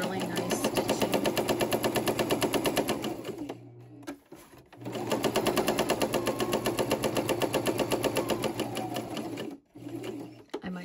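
A sewing machine stitches through a paper card, with rapid, steady mechanical chatter running in two long bursts that each stop briefly. The machine sounds close and loud, with no voices over it.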